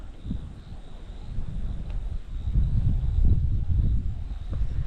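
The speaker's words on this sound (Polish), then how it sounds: "Widzicie, tu jest przejaśnienie, ale wiatr wieje z tamtej strony." Wind blows steadily across the microphone in low rumbling gusts that swell toward the middle, with a faint distant hum behind.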